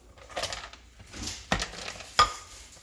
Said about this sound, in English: Now I guess I start stirring.